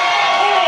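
A wrestling event crowd cheering and shouting, a loud dense wash of many voices in a brief burst.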